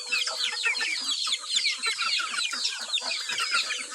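A flock of chickens on a Filipino farm clucks and chatters continuously up close, many birds overlapping in a busy, steady barnyard murmur with no talk.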